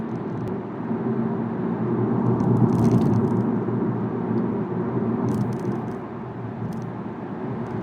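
Steady low rumble of tires on rough pavement fills the cabin of a 2020 Volkswagen Jetta GLI with a 7-speed automatic, a continuous broadband drone that swells slightly midway with no talking.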